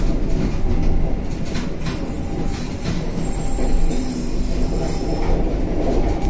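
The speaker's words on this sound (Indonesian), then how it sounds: "Bertemu kereta api Cirebon Express yang mau memasuki stasiun" Cirebon Express passenger train rolling into a station near Cikampek, a loud steady rumble of wheels and carriages with metallic squeal and faint rhythmic clatter throughout, no talking.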